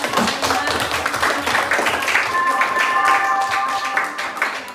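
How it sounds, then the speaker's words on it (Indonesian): Students in a high school classroom applauding, a dense burst of clapping that fills the room, close and loud, with chatter mixed in. "Kita kasih aplaus."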